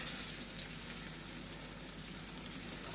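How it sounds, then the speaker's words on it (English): Steak dropped into hot grease for country fried steak, a dense continuous sizzle and crackle of frying, steady and fairly quiet throughout with no talk. "you want to take the meat and drop it in that hot grease, and you want to hear it sizzle"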